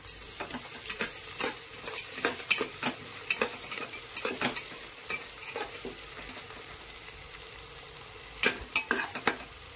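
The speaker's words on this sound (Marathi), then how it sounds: "आता याला चांगलं हलवून घेऊ आपण" Coarsely pounded ginger garlic paste frying with onion and green chilli in a pan, a soft continuous sizzle punctuated by repeated scraping clicks of a spoon stirring, nearby and fairly quiet.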